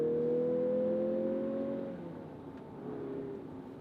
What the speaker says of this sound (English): you can hear the turbo really well